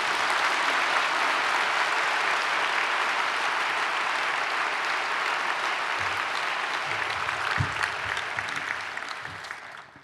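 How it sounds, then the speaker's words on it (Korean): A church congregation applauds at a Wednesday service, a dense, steady wash of clapping that holds evenly for most of the stretch, with a few voices and low thumps near the end before the applause thins and fades out. "박수하겠습니다."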